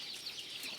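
Chickens cluck faintly on a hill-tribe farm, a brief, soft scatter of calls at a little distance.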